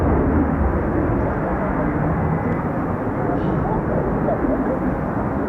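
An F-35 Lightning stealth jet with a Rolls-Royce lift fan produces a loud, steady, broad jet roar nearby that fills the whole clip, with a voice talking under it.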